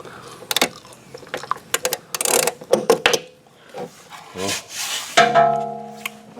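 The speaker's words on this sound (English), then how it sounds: "Let's flip the wrench to the right direction that I need." A wrench works a bolt on a Troy-Bilt lawn mower during a tune-up, with bursts of close metallic ratcheting and rasping clicks, some handling rubs, and a short tonal hum near the end.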